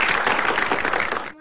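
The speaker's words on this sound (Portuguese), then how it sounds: "Palmas, palmas." A crowd clapping in dense, steady applause close by, lasting about a second and a half before cutting off abruptly.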